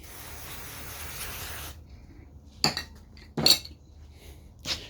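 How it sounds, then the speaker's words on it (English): Spraying down a Stihl hedge trimmer that is leaking fuel: a long steady hiss of spray cuts off, followed by a few short sharp spray bursts separated by quiet gaps, no talking. "I'm going to spray this down, let it dry off"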